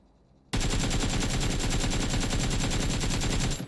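Rapid automatic gunfire from a rifle without attachments in PUBG on console, a single unbroken burst of thirty shots fired in fast, even rhythm, loud and close after a brief quiet start, then cutting off abruptly.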